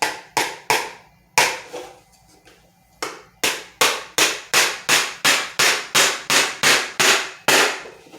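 A hammer drives nails into wood during a simple kids' woodworking project, with sharp, loud blows in short bursts, then a long, steady run of evenly spaced strikes, close up and without talk.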